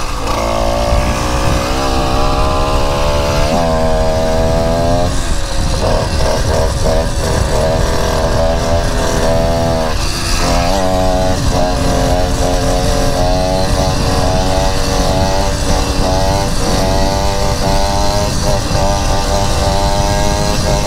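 A moped engine revs hard and loud while being ridden, its pitch climbing and falling through repeated throttle changes and holding a steady drone close by throughout.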